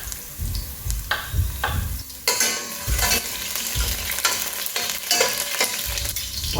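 Garlic fries in a pan, a steady broadband sizzle with repeated scraping and clattering of a utensil stirring, fairly close and loud, with no talking.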